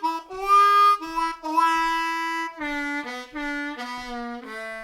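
Harmonica in A playing a blues lick with a bent 2-draw note, clear sustained tones in short phrased bursts with brief gaps, solo and close.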